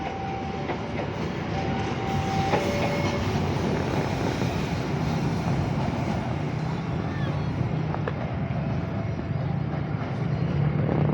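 A passenger train entering Cikampek station in Indonesia rumbles steadily with rolling, clattering wheels and a few brief tones, a continuous close rail noise lasting the whole stretch.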